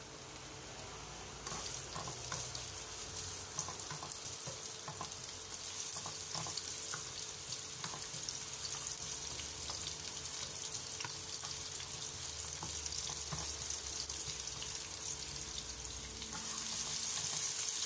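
Chopped onion frying in a pan for ginisang opo with ground pork, a steady bright sizzle that runs the whole time, close and even, with faint stirring clicks and no talking.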